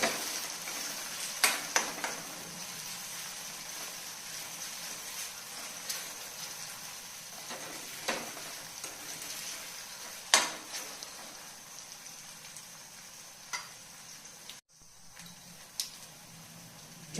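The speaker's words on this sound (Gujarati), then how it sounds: "હવે આમાં આપણે લસણ અને આદુની પેસ્ટ ઉમેરી દઈશું અને એને પણ થોડી વાર સાંતળી દઈશું." Garlic and ginger paste sautéing for a spinach bhaji, a soft continuous sizzle with occasional utensil taps and stirring scrapes, fairly quiet and without speech.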